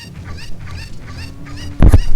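Cucco chicken from Zelda: Ocarina of Time gives a short loud squawking burst near the end, after a stretch of softer chirpy game sounds and background music.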